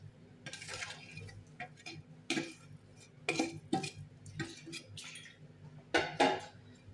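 Goat meat is worked by hand with native spices in a bowl, producing irregular wet squelches and dish clinks that are close and moderately loud, with no talk.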